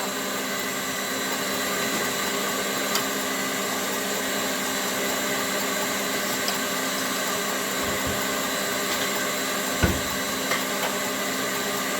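A steady electric mixer whirs continuously, beating hot syrup into egg whites for old-fashioned homemade divinity fudge, loud and close with occasional light clinks against the bowl.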